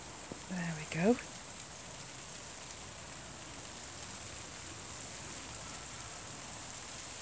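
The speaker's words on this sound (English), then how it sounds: "I can feel the rain." Steady, soft hiss of rain falling continuously under an alder tree in a garden during Storm Aileen, faint and even, after a brief murmur of voice at the start.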